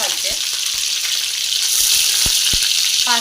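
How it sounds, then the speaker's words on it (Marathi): Crushed garlic and green chillies hit hot oil in a kadhai for tempering, giving a loud, steady sizzle with a few sharp clicks of a spoon or utensil, close and without talk. "तेल गरम झाले, आता त्याच्यामध्ये मी लसूण, हिरवी मिरची घालते।"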